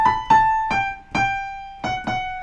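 Piano notes of a right-hand passage from measure 17, played without the trill: six separate struck notes in an uneven rhythm, close and clear, each ringing and decaying with no talk.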